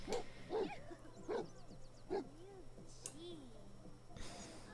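A dog in The Sims 4 gives several short yips and barks spaced across a few seconds, with whimpering pitch sweeps between them, over a steady low game hum.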